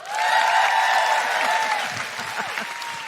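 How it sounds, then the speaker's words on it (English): Live audience applause at a recorded show in Auckland, a brief swell of clapping that rises quickly and then gradually fades. "Big round of applause for Michelle"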